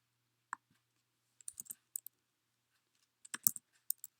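Sparse, quiet clicks from a computer keyboard come in small bursts of a few keystrokes separated by pauses, close and alone with no talk.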